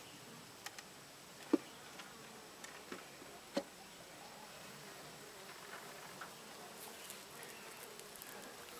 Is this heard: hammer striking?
no